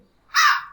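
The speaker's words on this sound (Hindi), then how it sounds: "ये देखिए तोते की आवाज है" A single short, harsh squawk from a parrot call sound effect in a video editing app, loud and isolated, rising quickly and fading within a fraction of a second.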